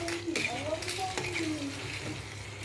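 Pav bhaji with smashed vegetables is stirred in a pan, a steady scraping and gentle sizzle running throughout with a few squeaky utensil strokes, close and moderately loud.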